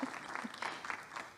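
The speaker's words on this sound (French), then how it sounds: "On l'applaudit." A church congregation applauds at a Sunday service, a brief, soft spatter of many hands clapping at a distance, quiet and even for just over a second.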